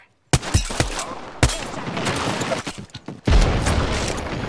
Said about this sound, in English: He's throwing an airstrike.